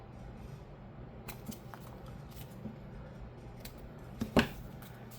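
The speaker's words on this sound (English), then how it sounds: "I'm just giving these that little trim." Scissors snip paper for a junk journal at a quiet table: a few faint cuts, then a sharper, louder snip near the end, over a low steady background hum.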